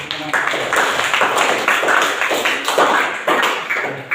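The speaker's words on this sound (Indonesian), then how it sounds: "Silakan tepuk tangan dulu" Classroom applause during a lesson, several people clapping together in a steady, fairly loud burst of rapid claps that continues throughout, with no voices over it.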